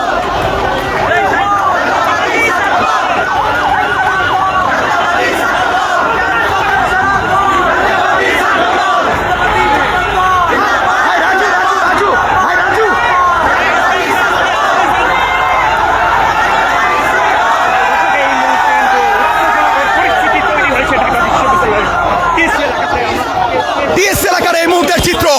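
A crowd at a student political procession at Dhaka University, Bangladesh Nationalist Chhatra Dal supporters, chants slogans loudly and continuously, many voices shouting in unison over a dense babble, close and sustained throughout.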